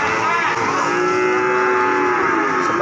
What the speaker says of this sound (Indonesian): Nah, ini sapinya